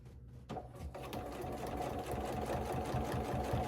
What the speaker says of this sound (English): a straight stitch with that red thread.